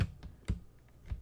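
A computer keyboard being handled on a desk during an Xbox One X unboxing, giving a few sparse, soft clicks and knocks with quiet gaps between them.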